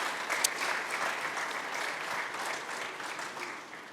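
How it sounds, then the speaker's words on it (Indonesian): Church congregation applauding during a confirmation service, steady sustained clapping from a crowd filling the room for about four seconds, with no talking over it. "Mari kita tepuk tangan sekali lagi."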